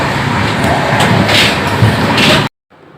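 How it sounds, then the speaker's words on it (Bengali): A passenger train runs with a steady, loud rumble and clatter inside the carriage, with faint voices mixed in, cutting off abruptly after a couple of seconds. "ট্রেনে যাচ্ছিলাম ট্রেনের আওয়াজ সবে মিলে বেশ ভালোই লাগছিলো"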